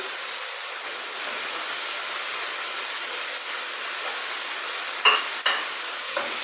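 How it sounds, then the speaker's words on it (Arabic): Shawarma stirred as it fries in a pan, a loud continuous sizzle filling the space, with a couple of brief scraping turns near the end. "وبعد كده اقلب اهو تقليبه صغيره كده"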